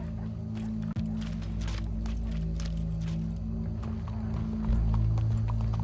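Horse hooves clip-clopping closer in the Red Dead Redemption 2 video game, a steady run of hoofbeats over a loud, continuous low rumble of game ambience.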